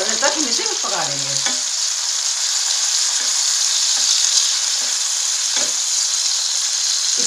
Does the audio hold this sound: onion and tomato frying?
yes